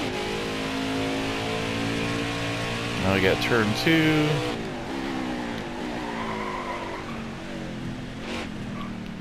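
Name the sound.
racing truck engine in video game NASCAR Heat 5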